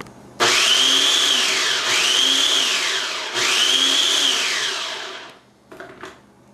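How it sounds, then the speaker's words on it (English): A food processor pulses pastry dough with butter and salt for cranberry-pear tartlets: three loud, close whirring bursts of a few seconds each, followed by two short, softer blips. "So now I'm just going to pulse it quickly."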